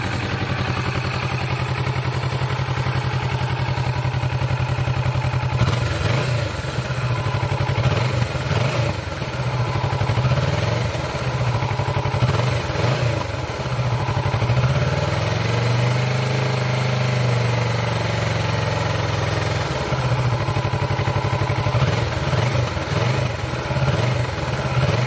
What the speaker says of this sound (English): I'm going to do a little exhaust blip for you. That way we can get kind of a sound after it's been warmed with the stock exhaust.